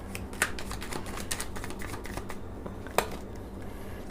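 Tarot cards being shuffled by hand, a soft rapid riffling and flicking texture that continues steadily with a couple of sharper snaps, close and quiet with no talking.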